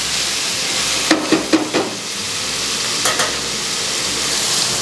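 Brown sugar and black pepper are stirred into adobo chicken and garlic frying in a pan, giving a constant loud sizzle broken by a few short scraping stir strokes.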